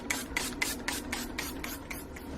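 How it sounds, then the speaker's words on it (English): Alcohol spritzed from a spray bottle onto freshly poured soap in a wood mold: about eight quick, evenly spaced hissing bursts, close and crisp, over a low steady room hum. "Give that a spray of alcohol."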